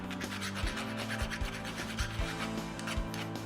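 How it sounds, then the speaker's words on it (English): A bastard file rasps over the rough cut edges of copper pipe in a woodworking shop, giving steady rubbing strokes with a few heavier thumps at irregular intervals, close and fairly quiet. "I had to have at it with my bastard file to make the edges a little less deadly"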